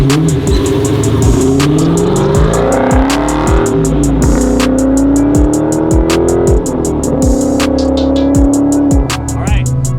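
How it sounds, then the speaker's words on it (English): A muscle car on a race track accelerates hard through repeated gear shifts, its engine rising in pitch and dropping at each change. The sound is loud, close and continuous, with a faint voice underneath. "we have our first braking exercise here. 3rd gear, 65, learning how to use brake pressure"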